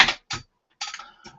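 A computer keyboard is typed on in a few short clicky bursts with quiet gaps between them, close and distinct, with no talking.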